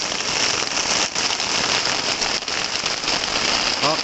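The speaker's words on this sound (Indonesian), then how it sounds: "Hujannya lebat sekali." Heavy rain pours down steadily at a riverside fishing spot, a dense continuous hiss and patter close by with no talking.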